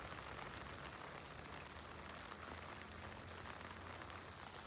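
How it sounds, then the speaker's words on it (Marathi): Heavy rain pours down steadily at a riverside in rural Maharashtra, a dense unbroken hiss of drops hitting surfaces all around, with no voices. "आणि पाऊस तर लय आहे भावांनो, लय पाऊस आहे आज"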